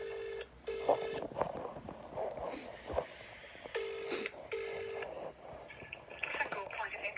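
Telephone keypad tones beep in short bursts as a crisis line is dialed, with the call connecting and ringing in between, some faint breathing or voice audible alongside.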